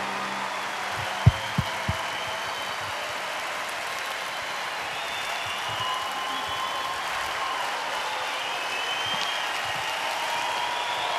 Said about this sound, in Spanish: despedimos a Olivia Newton-John con ese aplauso respetuoso, cariñoso, que le entrega la Quinta Vergara